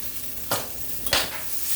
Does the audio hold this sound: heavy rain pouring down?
no